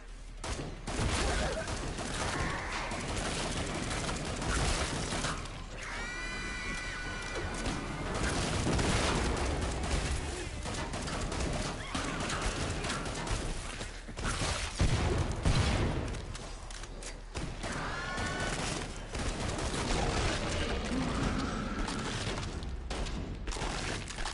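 Dense, continuous gunfire from the first-person shooter Killing Floor 2, with rapid bursts and loud blasts, one being a shot fire extinguisher, amid chaotic battle noise; a voice breaks in briefly now and then.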